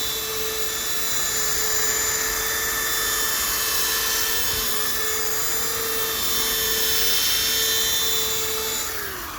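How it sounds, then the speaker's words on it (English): A sanding disc sands a dome with a steady high whine that holds nearly unchanged throughout, dense and continuous, with no voices over it. "You want to let the sanding disc do the work."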